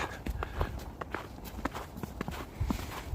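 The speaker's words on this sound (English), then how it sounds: "You mean the sound of slush?" Footsteps crunch and squelch through wet spring slush in Skogskyrkogården, Stockholm, Sweden, at a steady walking pace, close by and fairly quiet, with faint background noise.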